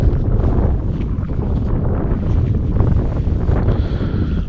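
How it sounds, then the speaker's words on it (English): Strong wind rushing over the microphone on a frozen lake while ice fishing in Northern Ontario, a loud, continuous roar and buffeting with no voices. "Wind is starting to pick up now, which kind of sucks."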